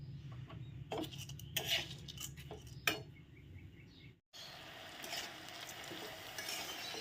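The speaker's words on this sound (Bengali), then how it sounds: "ফ্লেমটা মিডিয়াম করে খুব সুন্দর করে চালটাকে ভাজতে হবে" Rice frying in a pan over a medium flame, with soft scraping stirs and light clinks above a low sizzle, fairly quiet and close.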